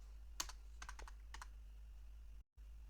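A few quick keystrokes tap on a computer keyboard while MySQL code is being written, light clicks in short clusters over a quiet hum, then a brief dropout near the end.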